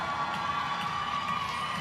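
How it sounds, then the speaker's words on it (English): Sustained crowd cheering and shouting fills a weightlifting arena at the 2017 World Weightlifting Championships, women's 53 kg event, a steady, dense roar of many voices with no single standout. "We've got a lot of cheering"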